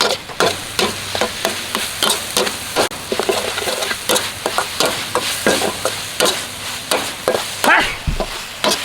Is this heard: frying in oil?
yes